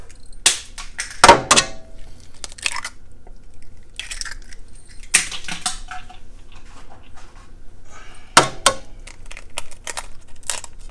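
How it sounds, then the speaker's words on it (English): An egg cracks against a hard surface and drops into a dimple pressed into a zucchini half, a few sharp close taps and clicks separated by quiet kitchen pauses. "Now what we do is we crack the egg in the middle."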